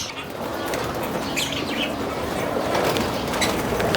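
Rescued birds, including pigeons or doves, flap their wings in a continuous fluttering rustle over about four seconds, with a few faint chirps and coos mixed in.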